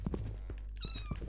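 A cat meows once in a roleplay video game, a short, fairly loud rising call standing alone over a steady low background hum.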